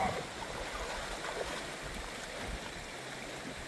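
A river rushes in a steady, broad wash of flowing water, loud and continuous throughout, with no voices standing out.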